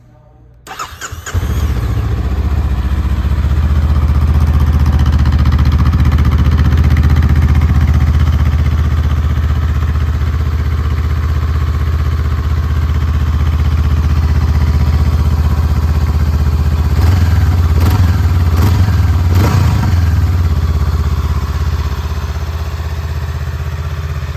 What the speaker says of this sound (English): I'm sitting here in neutral, so I can go ahead and fire the bike up